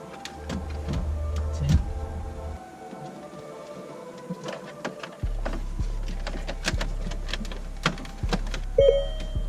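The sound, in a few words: sliding a car radio into the Land Rover LR2 dash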